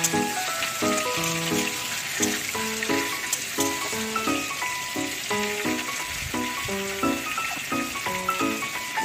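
Cut pumpkin pieces sizzle loudly in hot oil in a pan, a dense steady crackle with soft scraping as they are stirred, over background music and no talk.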